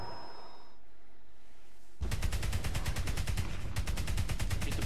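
Gunfire in the video game Crysis 3: after two seconds of quiet, sustained rapid automatic shots fire in dense bursts, loud and close, with no talk.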